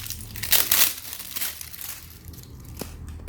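Foil cover peeled off the top of an ATV/motorcycle battery, a close crinkling and tearing that comes in a few bursts, loudest early, then quieter crackles as the foil comes away.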